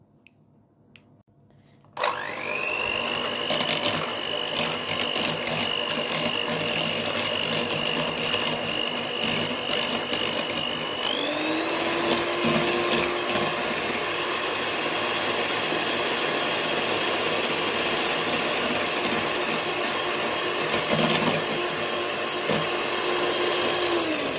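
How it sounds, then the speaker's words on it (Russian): Electric hand mixer whipping six egg yolks with sugar into a foam for custard cream: after a short quiet start, a loud steady motor whine runs continuously, its pitch dipping and shifting as the beaters work the mixture. "таким образом мы еще взбиваем до, до, до пышной пены наши желтки и сахар."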